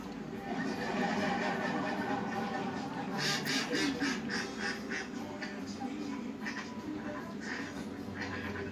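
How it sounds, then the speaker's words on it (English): Ducks quack repeatedly in a busy, overlapping burst of calls, clear and fairly close, with general background noise running underneath. "what's up with the ducks, man?"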